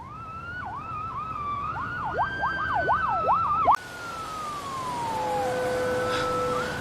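A wailing siren sweeps up and down rapidly, then cuts to a long steady tone that slowly falls in pitch, loud and fairly close with traffic rumble underneath.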